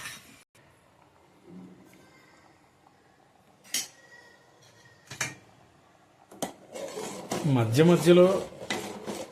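A spoon stirs cashew nuts frying in a pan for rice payasam, giving intermittent scrapes and metallic clinks that build into denser, louder scraping near the end, with a voice speaking briefly.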